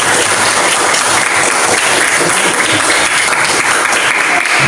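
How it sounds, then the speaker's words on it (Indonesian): A group claps together at the close of a school coaching session for education supervision: dense, steady, loud applause with no pauses across the whole stretch, many hands blending into a continuous wash. "Tepuk tangan semua."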